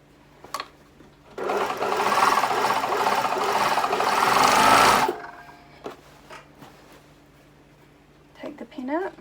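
Sewing machine stitching sheer fabric in a steady, fast mechanical whir that runs for a few seconds and then stops, with small clicks and handling sounds before and after and a voice talking nearby.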